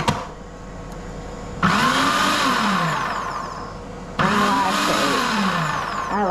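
A food processor whirring as it chops carrot soup ingredients in two loud bursts, each starting abruptly and sagging in pitch as the blades bite, with a short quieter gap between them.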